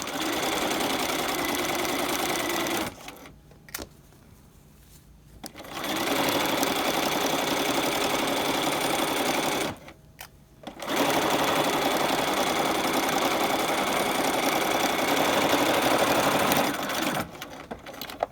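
A sewing machine stitches a raglan coat seam in steady whirring runs of several seconds, stopping briefly twice before running on, close and fairly loud with no talking.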